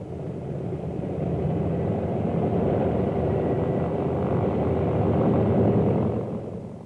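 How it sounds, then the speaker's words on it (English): Propeller-driven World War II reconnaissance planes flying back to base in the Pacific, New Guinea, as heard on an archival film soundtrack: a steady, loud droning engine rumble that holds for several seconds before easing off near the end. "The planes raced back to their base with their high-priority cargo."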